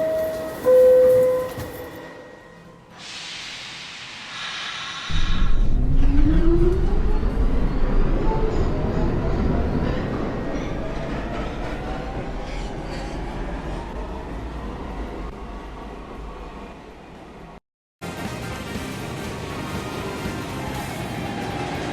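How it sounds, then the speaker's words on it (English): A Manhattan-bound New York subway 1 train, an R62, passes through Rector Street station in the Financial District. A loud, rising electric-motor whine builds over a heavy rumble for about twelve seconds, then cuts off abruptly. "This is a Manhattan-bound 1 train."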